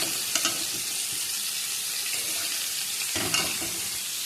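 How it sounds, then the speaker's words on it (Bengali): Drumstick stalks and potatoes are stir-fried with meat in a pan, giving a steady close sizzle and frying hiss throughout, with a couple of brief stirring scrapes. "ডাঁটা আর আলু দেবো। অনেকক্ষণ ডাঁটা আলু দিয়ে কষিয়ে নেব।"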